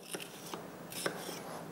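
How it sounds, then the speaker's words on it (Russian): Several quiet, crisp knife strokes cutting bell pepper on a cutting board, spaced irregularly, with no voices. "Нарезаем."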